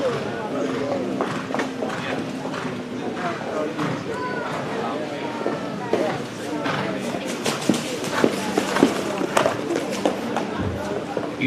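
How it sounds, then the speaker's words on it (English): Hooves clip-clop in a quick, even rhythm as a crossbred harness stallion trots during a sale presentation, partly masked by an announcer talking continuously over the crowd. "You talk about a crossbred stallion with a good trot"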